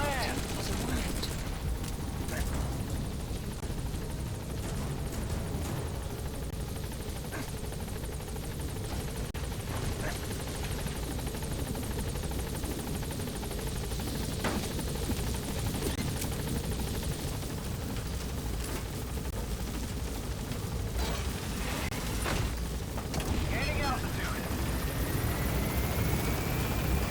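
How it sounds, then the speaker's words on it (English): Support helicopter arriving in the video game Metal Gear Solid V: The Phantom Pain, a steady rotor drone and mechanical hum held at constant loudness for the whole stretch, with brief clicks and a radio voice over it. "Support helicopter has arrived."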